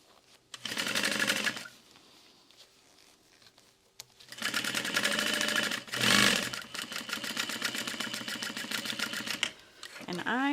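Sewing machine stitching the lining pieces of a backpack together, in two bursts of steady rapid needle chatter separated by a short pause, close and fairly loud, with brief speech at the end.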